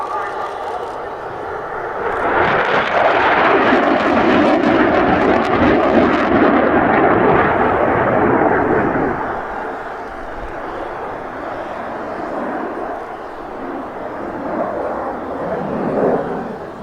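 A Eurofighter Typhoon jet making a high-speed pass at an RAF Cosford airshow, a loud roar building from a distance, peaking for several seconds, then fading into a lower rumble while a commentator talks over it.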